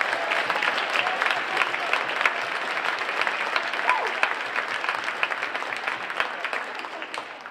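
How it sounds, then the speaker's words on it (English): Audience applause for seventh and eighth graders at a junior/senior high school Christmas concert, a steady dense clapping crowd sustained throughout at moderate loudness. "Let's give a round of applause for our seventh and eighth graders."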